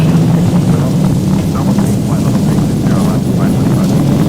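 Boeing 737 engines at takeoff thrust in X-Plane 12, heard from the cockpit as a steady, loud, broad roar that stays even throughout, with no other distinct sounds.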